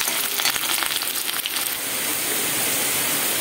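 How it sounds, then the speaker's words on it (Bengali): Chopped onion and garlic fry in hot oil, a dense, steady sizzle close up with crackling spatter throughout and no voices. "এখানে দিয়ে দেবো আমি যে পেঁয়াজ কুচি আর রসুন কুচিটা রেখেছিলাম, সেটা দিয়ে দেবো। আর এটা আমি হালকা লাল লাল করে একটু ভেজে নেব।"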